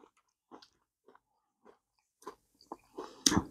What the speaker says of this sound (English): I'm just hoping the crunching's not too loud.